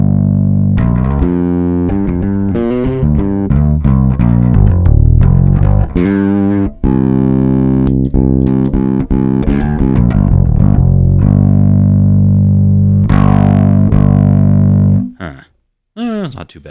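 A bass guitar runs through a Hardwire SC-1 valve distortion pedal, giving a gritty, heavily distorted tone as a busy riff of plucked notes plays loud for about fifteen seconds before cutting out abruptly.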